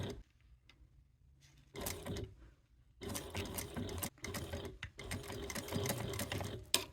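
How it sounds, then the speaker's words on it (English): A sewing machine stitches piping onto a crossbody bag, running in close, steady bursts that stop and start again with short pauses between seams. "we are done sewing 3 inches down from this top edge"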